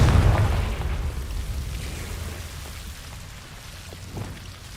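Blasting spell explosion in a video game, a loud deep boom at the start that decays into a long rumbling, crackling tail like falling debris, fading steadily with a faint late pop.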